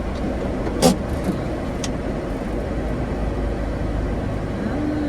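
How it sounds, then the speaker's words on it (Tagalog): Road traffic near Bucana Bridge makes a steady, fairly loud rumble of passing cars, with one brief louder whoosh near the start and a continuous engine drone throughout. "Start ang traffic dito. Start na po ang traffic."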